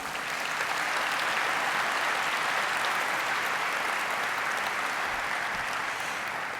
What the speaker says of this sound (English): please do give her a round of applause